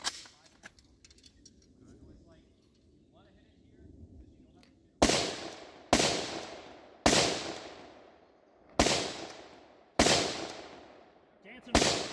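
Five loud, sharp rifle shots at targets ring out about a second apart, each with a rolling echo tail, after several seconds of quiet outdoor ambience at a 2024 woodland shooting competition.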